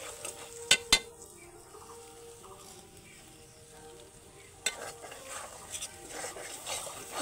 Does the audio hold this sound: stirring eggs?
yes